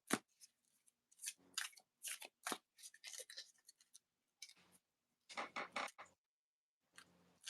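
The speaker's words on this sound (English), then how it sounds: "Shuffle up my deck." Pokémon TCG card deck being shuffled by hand, quiet bursts of riffling and flicking cards in short irregular clusters separated by brief pauses, close and soft, with no talking.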